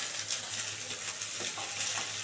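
Potato, onion, carrot and green chili fry together in an oiled pan, a continuous soft sizzle with faint stirring, fairly quiet and close, no voices.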